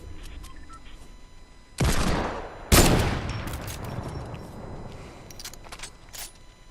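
Gunfire in a Fortnite match: two loud close bursts of shots stand out, followed by scattered fainter clicks and a low rumbling game background.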